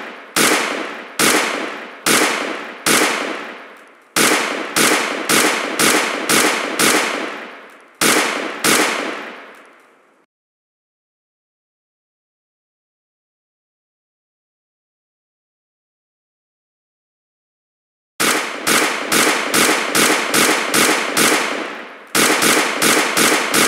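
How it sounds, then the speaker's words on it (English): Rapid bursts of shots from an Umarex Colt M45 CO2 air pistol with recoil effect, sharp cracks fired in quick strings of several, a long silent pause, then more fast volleys, loud and close with no talk. "We're going to use a CO2 canister with the recoil effect and fire off a few shots to see what sort of like rapid shooting feels like"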